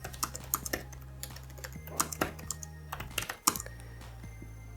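Rapid typing on a Logitech K780 wireless keyboard heard up close, a steady, uneven clatter of light key taps, some struck harder than others, with no talking.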